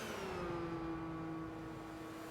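Car engine with an upgraded exhaust in the Gran Turismo 5 racing game, a steady droning tone that slowly falls in pitch as the car eases off, fairly quiet and with no talking.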